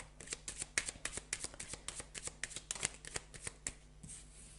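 Lenormand cards shuffled by hand, giving a close run of soft riffling flicks and slides at an uneven, busy rhythm, fairly quiet and with no voices.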